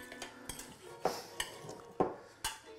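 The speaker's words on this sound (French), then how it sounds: "Je vais venir déposer mes lentilles" Lentils are spooned into a dish in a home kitchen, giving several sharp, separate clinks and taps of utensil against dish over a few seconds. A soft rustle sits underneath, and no one speaks.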